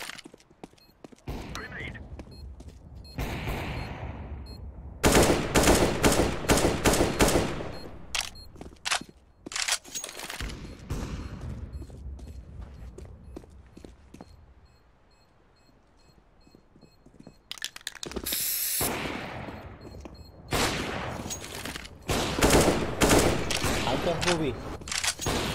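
Counter-Strike: Global Offensive gunfire rattles in loud rapid bursts and single shots, with a quieter pause midway, as players' voices talk over the fighting.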